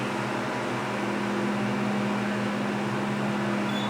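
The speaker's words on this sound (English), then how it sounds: "Loud motor." A loud Delaware hydraulic elevator motor runs inside a building, a steady close drone with a strong low hum and broad whirring noise that holds evenly throughout.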